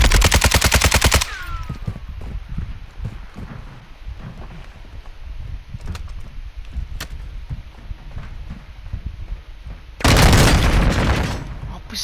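Loud, rapid automatic gunfire from Call of Duty: Modern Warfare II hammers in a dense burst at the start, scattered shots and booms follow under wind noise and talk, then another heavy sustained burst near the end.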